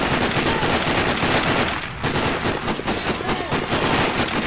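Rifle gunfire in the video game Sniper Ghost Warrior, dense rapid bursts of loud shots and explosive cracks running almost continuously, with a brief lull partway through.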